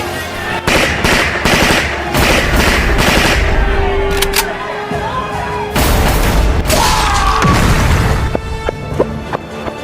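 Video game gunfire: loud, dense bursts of rapid automatic shots with booming impacts, running almost continuously with a few brief pauses.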